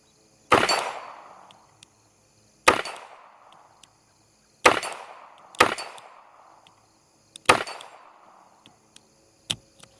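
Six sharp, loud shots from a High Standard Sentinel revolver fired double-action, spaced about two seconds apart, each with a short ringing decay, alone with no talk.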